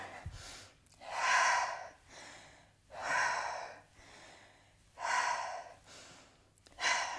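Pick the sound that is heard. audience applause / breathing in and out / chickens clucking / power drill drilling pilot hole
breathing in and out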